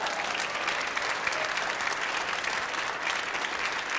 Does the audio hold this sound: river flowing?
no